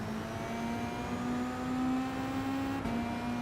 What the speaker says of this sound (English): Inside, you can definitely hear the turbo more in this Beetle than I could previously.